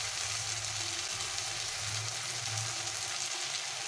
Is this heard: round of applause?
no